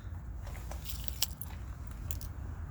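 Light metallic jingling and clinking of keys and a key fob handled close by, in small scattered bursts.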